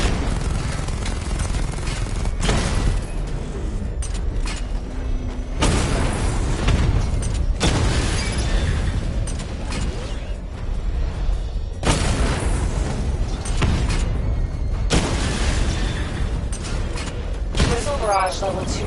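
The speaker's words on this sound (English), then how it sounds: "Charge up missile barrage to level 2 and destroy 4 active targets to complete diagnostic test" Heavy booming explosions from a missile barrage in the video game Batman Arkham Knight arrive in repeated loud waves with mechanical whirring between them, while a voice talks over parts of the action.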